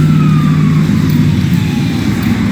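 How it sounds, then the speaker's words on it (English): An emergency siren wails past outdoors, its tone sliding downward over constant loud traffic rumble from a nearby street. "Get ready here, comes a siren. Hold on to your ears."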